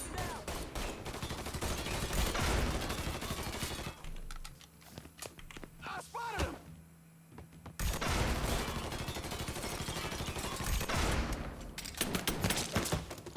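Rapid gunfire from a magazine dump in the video game Mafia III, long dense streams of shots broken by a brief lull, loud and close throughout.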